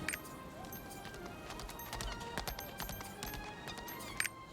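Elk mount hooves clip-clop in the Lost Ark video game, a steady run of sharp, moderately loud hoofbeats over a busy game soundscape.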